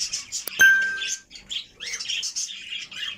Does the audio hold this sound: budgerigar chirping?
yes